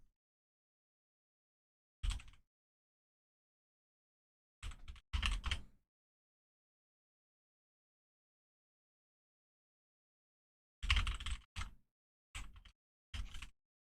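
Someone types on a computer keyboard in short separate bursts of clacking keys, close and fairly quiet, with long silent gaps between the flurries.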